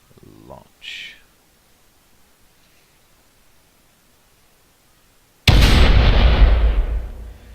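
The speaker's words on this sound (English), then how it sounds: "The explosion carried straight through." A warhead detonating in a space-building video game, a sudden massive roaring blast after a near-silent stretch with a couple of faint short sounds, decaying into a long rumbling wash of noise.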